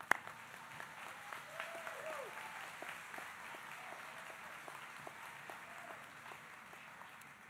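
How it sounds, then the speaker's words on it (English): A commencement audience at a sign-language school ceremony claps fairly softly and steadily, a diffuse spread of hands heard from some distance in a large hall. "you can clap, it's good"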